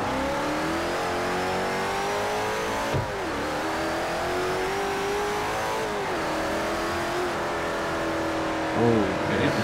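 A car engine in the racing game Forza 4, in a cruising lobby, revs up steadily and loudly, with a shift roughly every three seconds. The engine note drops each time and climbs again, with no talking.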